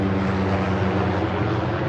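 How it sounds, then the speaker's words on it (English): Helicopter flying overhead during an outdoor walking tour, a loud continuous rotor and engine drone with steady low harmonic hum, close and unbroken. "helicopter"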